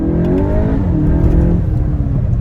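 Volkswagen Golf GTI Clubsport engine revving up close, a loud steady drone with rising and falling pitch sweeps through the rev range, no voices over it.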